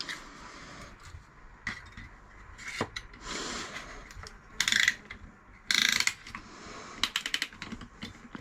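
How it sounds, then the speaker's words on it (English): Ring compressor being ratcheted tight around a hydraulic lift piston with a leather seal on a Ferguson T20 tractor, giving bursts of quick metallic clicks between quieter handling noises, close and clear. "we're gonna find a ring compressor. Just pop that on just to pull it all back in"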